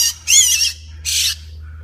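Two harsh, close squawks from a rescued baby bird pulled out of a vent in Wichita, Kansas, each loud and raspy with a short pause between, over a low steady hum.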